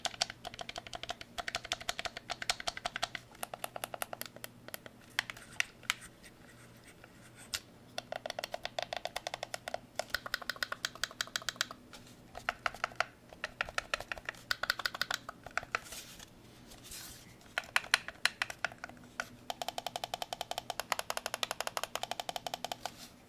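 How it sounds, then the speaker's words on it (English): Buttons on a Flydigi Direwolf 2 game controller are pressed again and again, giving close, dense clicking in irregular bursts with a few brief lulls. "Let's have a listen to the sounds of the buttons."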